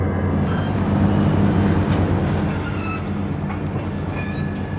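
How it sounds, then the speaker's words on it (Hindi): Trains departing Veerpur station rumble steadily, with rail noise and faint squeals of wheels over track, a continuous loud drone without speech. "दोनों ट्रेनों का डिपार्चर हो रहा है वीरपुर से"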